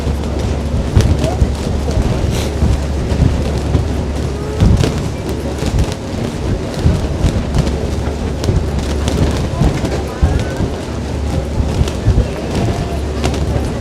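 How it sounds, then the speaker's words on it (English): Strong wind buffets the microphone aboard a Circle Line sightseeing cruise boat in New York Harbor, a steady loud rumble with gusty bursts throughout and possible faint voices beneath. "due to the wind, I don't think you guys can hear me properly"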